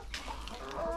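A chicken gives a short run of soft, low clucks near a brooding hen, close and fairly quiet, lasting about a second with no voices.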